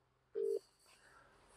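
A telephone call's ringing tone sounds once as a single short electronic beep, fairly faint, followed by quiet line hiss.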